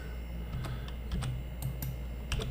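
Quiet, close typing on a computer keyboard while entering values, a handful of light, irregular key clicks in short runs.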